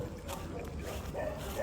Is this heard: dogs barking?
yes